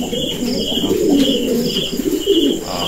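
A pigeon coos in a steady, close, moderately loud run of soft rolling notes, alone with no voices, lasting a few seconds.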